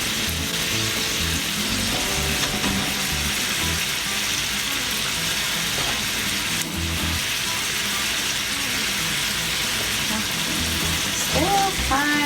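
A grass-fed steak fries in a cast iron skillet with a dense, steady sizzle that fills the whole stretch, crackling continuously at close range with a few faint knocks beneath.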